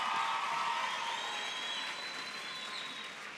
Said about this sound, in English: deserve another round of applause